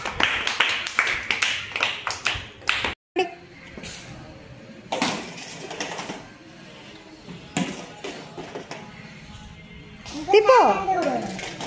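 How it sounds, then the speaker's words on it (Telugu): Young children in a classroom break into a quick burst of clapping, with children's voices and chatter around and after it. "Very good, claps."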